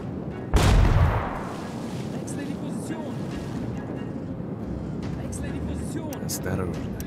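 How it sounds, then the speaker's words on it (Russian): Single grenade explosion in the war game Partisans 1941: a sharp, loud blast with a booming tail, followed by steady background rumble. "Опять гранату кидают."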